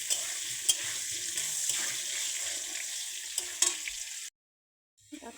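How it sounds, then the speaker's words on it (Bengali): Potatoes frying in a pan crackle with a bright, continuous sizzle and a few sharp spatula knocks, then the sound cuts off abruptly and returns faintly just before the end. "এরকমভাবে একটু আলুটা অনেক ভালো করে একটু ভাজে নেব। হালকা একটু লাল লাল করে ভেজে নেব"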